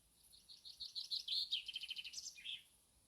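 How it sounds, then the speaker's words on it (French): Birds sing outdoors during a quiet meditation on silence. A small songbird gives a run of high, rapid chirps and trills, soft and at middle distance, with no voices. "Il y a toujours ce chant des oiseaux qui apparaît dans le silence"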